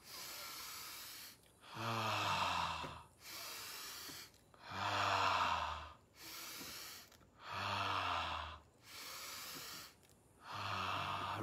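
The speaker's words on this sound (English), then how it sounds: "keep breathing deep through your nose and" Deep breaths taken in through the nose and let out through the mouth, heard close and slow, about five long hissing breaths with pauses between them.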